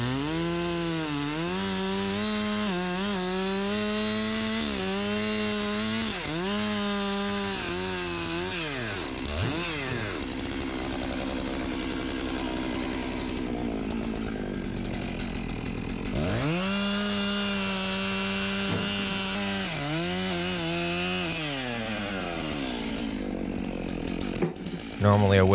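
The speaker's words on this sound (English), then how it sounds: "Normally I wouldn't be using such an oversized chainsaw for this type of a job" A large, oversized chainsaw cutting firewood roars close by, revving up and bogging down in long repeated cuts, dropping to idle briefly between passes.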